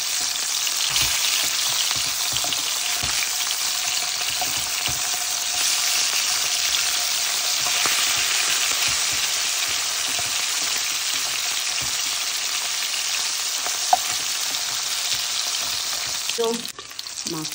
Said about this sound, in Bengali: এগুলোকে আমি গোল্ডেন ব্রাউন করে ভেজে নিব।